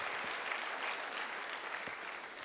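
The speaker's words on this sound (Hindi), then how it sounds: "मेरे महागुरु जी मिस्टर नसीब सर और मिस्टर महेंद्र जी के लिए एक बार जोरदार तालियां बजा" Steady audience applause fills the room for the speaker's mentors at a motivational business talk, a dense, even wash of many hands clapping at close range with no voices over it.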